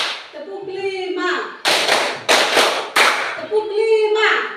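Children in a classroom clap in counted groups, a few sharp, loud clusters of claps set between stretches of a sung or chanted adult count.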